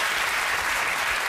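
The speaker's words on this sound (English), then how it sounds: "One clap for Rob" A short burst of steady studio audience applause on a TV comedy panel show, many hands clapping together, fairly loud and close.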